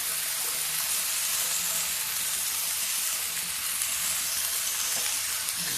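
Diced sweet potato fries gently in a pan with nuts and raisins, giving a soft, steady sizzle, fairly quiet and continuous, with no voices.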